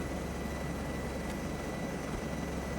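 Steady, loud helicopter rotor and engine drone from the video game Arma 3, continuous and broadband throughout with no talk over it.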